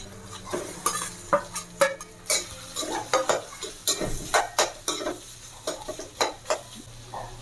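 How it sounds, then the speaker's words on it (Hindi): Potatoes with green chilies are stirred in a hot pan, with frequent close spoon scrapes and clacks against the metal over a continuous light sizzle. "30 सेकंड के लिए इसको चलाऊँगी। इसमें डाल दूँगी मैं ये आलू।"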